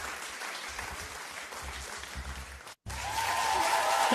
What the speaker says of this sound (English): Clap, everybody, this is a round of applause.